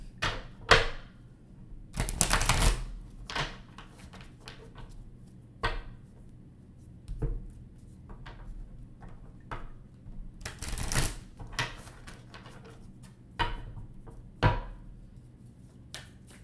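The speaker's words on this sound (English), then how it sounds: "just kind of bending these cards back into shape here" Playing cards are bent back into shape and handled, giving quiet, scattered snaps, flicks and rustles at irregular intervals, close by with no talking.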